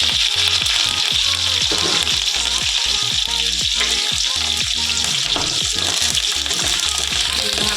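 Spices sputter and crackle in hot oil for an eggplant curry, giving a loud, dense sizzle. Rhythmic scraping of a spoon against the pan repeats steadily throughout.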